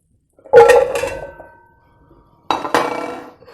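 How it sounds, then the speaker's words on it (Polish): Pumpkin, potatoes and other vegetables dropped into a large cooking pot, two separate clattering bursts of hard pieces knocking against metal, close and clear with quiet between them. "Wszystkie składniki, te co tu widzicie, wrzucamy do dużego garka."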